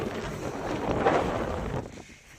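Strong wind on open high ground buffets the microphone with a steady roar that swells in the middle and then eases off.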